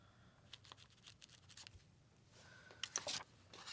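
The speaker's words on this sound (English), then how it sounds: "So I'm going to write that down." Pen scratching on paper close by, quiet and intermittent, with short strokes and scribbles and a busier flurry of writing near the end.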